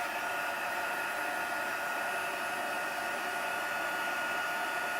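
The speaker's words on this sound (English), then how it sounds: "bear with me with the noise again while I heat this" A heat tool blows hot air steadily for craft heating, a loud, even roar of broadband airflow that holds unchanged throughout with no voices.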